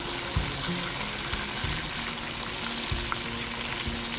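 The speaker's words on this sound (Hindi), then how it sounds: "अच्छी तरह से अदरक लहसुन के साथ इसको फ्राई होने दें तेल में" Beef fries in hot oil with ginger and garlic for kabsa over high heat, a dense steady sizzle with bubbling and a few low knocks, heard alone.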